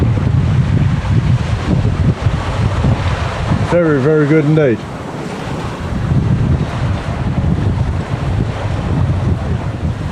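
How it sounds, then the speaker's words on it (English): Steady rushing wind and surf-like water noise aboard a sailboat under full sail in a nice breeze among small whitecaps, continuous and loud throughout, with someone briefly speaking in the middle. "Full sail. A few little white caps around us. Nice breeze."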